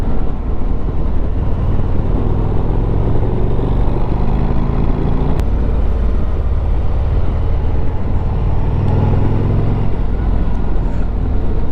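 A Harley-Davidson Street Glide motorcycle rumbles steadily while riding through gentle sweeping corners, its low engine drone continuous and dense, mixed with rushing wind and road noise, with no speech.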